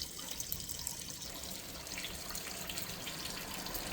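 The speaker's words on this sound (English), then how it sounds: "Just currently draining coolant out." Coolant drains out of a vehicle during transmission removal, a faint continuous trickle and splash of liquid with a hissy wash and no talking.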